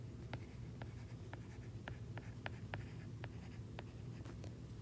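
Writing a number out by hand, likely a pen or marker on a surface, giving about a dozen short, regularly spaced strokes and taps over a faint steady background hum, no talk.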